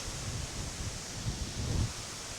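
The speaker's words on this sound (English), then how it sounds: "apologize for the wind" Steady wind buffeting a microphone outdoors beside a two-door Jeep XJ, a low rumbling rush that swells slightly toward the end, with no talking.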